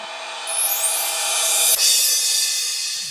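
Beat built in FL Studio with an added open hi-hat, a steady hissy shimmer of hats over a quiet bed, with a short sweeping rise near the start and a brief accent midway.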